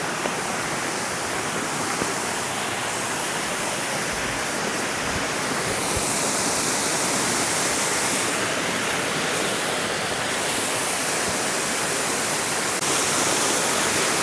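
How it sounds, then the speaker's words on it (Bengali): Turga Falls, a waterfall in Purulia, pours in a steady, full roar of rushing water that runs without a break, close and loud, with no voices over it. "ঝর্ণাটা দেখুন।"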